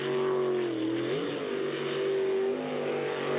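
A loud super stock jet boat engine drones steadily at a mud bog race, its pitch dipping and then climbing again as the throttle is eased off and reapplied, with no voices.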